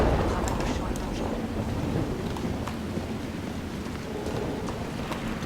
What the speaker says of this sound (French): s'il pleut comme ça en permanence